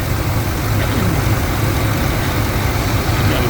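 A 5.4 liter 2V engine, freshly repaired, runs with a steady close engine drone and no clear rising revs, with no talk over it.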